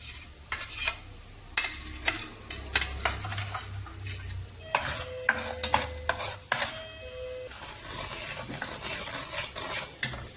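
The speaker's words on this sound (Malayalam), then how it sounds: "അരച്ചുകൊണ്ട് വന്ന് ഒന്ന് വഴറ്റണം." A ground spice paste is stirred and sautéed in a pan for snake gourd curry, with a soft steady sizzle under irregular scrapes and clinks of a spoon against the metal, some sharp and close.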